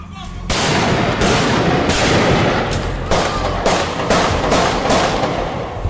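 Loud, sustained bursts of heavy gunfire, with repeated blasts and rattling shots filling the whole stretch without a pause.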